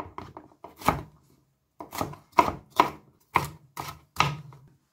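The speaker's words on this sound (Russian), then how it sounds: "Паприка обрезаю с обоих сторон. Вырезаю сердцевину. И также нарезаю крупно." A knife chops bell pepper on a cutting board, a quick flurry of cuts followed by a pause and then a series of evenly spaced, crisp strokes.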